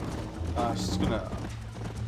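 Hooves clip-clop steadily as a horse gallops in the video game Red Dead Redemption, a quick rhythmic beat under a player talking over it.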